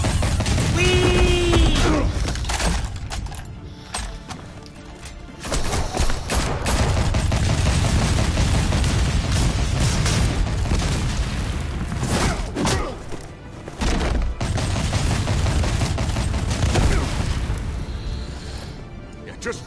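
Heavy gunfire with explosive slugs in a Batman Telltale video game, loud sustained blasts and booms mixed with score and shouting voices, dense and close throughout.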